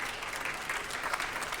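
An audience at an environmental business award ceremony applauds a prize winner coming on stage, brief, even clapping from a crowded room at moderate volume.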